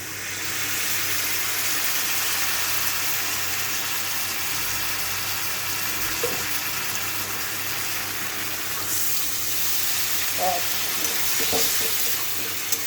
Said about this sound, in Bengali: একটু হলুদ দিয়ে আমি আরেকটু ভাজবো, তারপর মশলাটা দেবো